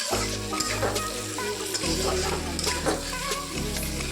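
Chunks of taro frying with spices in a pan crackle and hiss continuously up close, with occasional stirring clatters through the sizzle.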